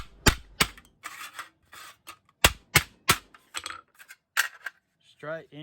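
Thin pressed-steel cover from a desktop PC power supply being squashed and crushed, a run of sharp metallic bangs and crunches in irregular bursts, close and loud, followed by a brief voice.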